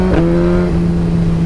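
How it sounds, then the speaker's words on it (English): A Suzuki GSX-R sportbike fitted with carbon wheels accelerates hard on the road, its engine note a loud, close, steady drone that rises briefly as revs climb. "as soon as you go past 3000 revs, it takes off."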